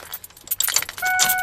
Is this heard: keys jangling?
yes